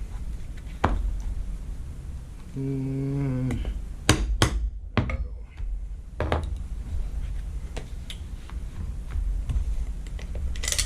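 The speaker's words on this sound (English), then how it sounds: "Punch ourselves a hole." A hole is punched through leather with a series of sharp, close knocks at irregular intervals, several bunched together near the middle. A short tonal whine and light handling noise come between the strikes.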